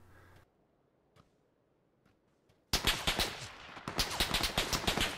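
Gunfire in the battle royale game PUBG on Erangel starts after near silence. A sudden dense burst of rapid, automatic-sounding shots follows, loud and crackling, continuing as a fast rhythmic volley with no one talking.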